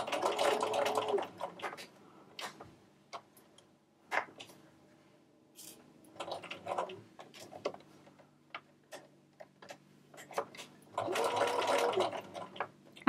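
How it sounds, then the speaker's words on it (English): A home sewing machine stitches a small fabric treat bag in a few short whirring bursts, separated by pauses filled with faint handling and a voice. "I'm just taking a few stitches, and then I'm rotating it, raising the presser foot just to move any of that folding out of the way."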